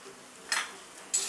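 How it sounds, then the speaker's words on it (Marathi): A lid comes off a cooking pan on low heat in a home kitchen, two short metallic scrapes or clinks close by over a faint steady sizzle. "झाकण आपण काढून घेऊया"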